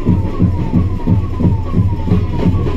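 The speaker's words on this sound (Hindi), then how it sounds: "आगे देखो एम्बुलेंस जा रही है" Ambulance siren wailing in heavy traffic, a steady repeating rising and falling tone that stays fairly distant under a loud rumble of engines, with no voices.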